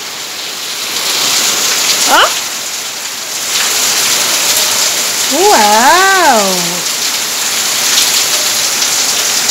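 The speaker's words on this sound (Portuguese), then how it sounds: "A chuva veio com tudo." Heavy rain pours down in a steady, loud hiss throughout, close and unbroken, while a voice exclaims briefly in surprise over the downpour.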